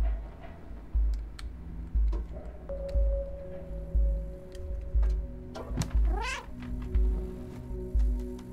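A cat meows repeatedly in the video game Stray, a string of short mews and a drawn-out caterwaul against a low, pulsing game soundtrack, with no talking.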